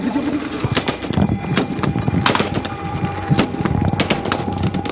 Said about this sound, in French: Au beau milieu de la visite, des échanges de coups de feu.